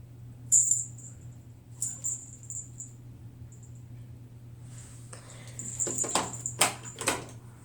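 Cats scratching and scraping against a door in a few scattered bursts, growing busier toward the end, with sharp high squeaks and a steady low hum beneath.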